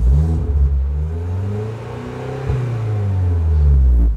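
A Renault Sandero RS engine fitted with a TDL 4.3 setup revs up and falls back in a couple of smooth throttle blips, rising from idle to a loud, close whirring roar and settling again, with no talk over it.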